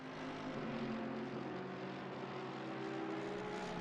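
A TV camera helicopter flies over a race track during a six-hour endurance race at Kyalami. Its steady rotor drone and engine hum fill the stretch, loud and unbroken.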